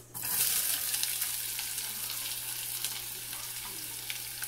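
Steady, loud sizzling of chopped onions frying in hot oil, with faint stirring clicks throughout and no voices.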